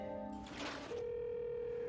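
A payphone receiver lifted off the hook, a brief rustle followed by a steady continuous dial tone that holds on evenly and clearly to the end.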